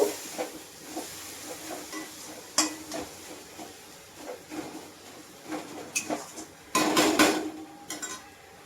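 Chili powder stirred into a spice mix in a pan, a spoon scraping and knocking against the metal in irregular strokes over a faint sizzle, with a louder burst of frying near the end.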